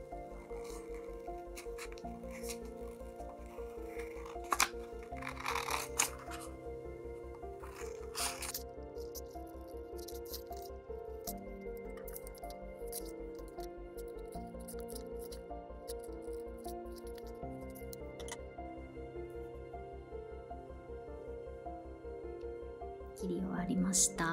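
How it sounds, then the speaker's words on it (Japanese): Scissors cut along the outer line of a paper sewing pattern for doll-size clothing, giving soft, repeated rasping snips under steady background music, with a few sharper crisp cuts. "はじめに外側のラインに沿って型紙を切っていきます。"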